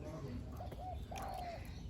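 A decoy dove in a bird-trapping camp gives a medium-to-deep coo, with a short call and then a longer drawn-out one. The coos are faint, with someone talking quietly and a low background hum.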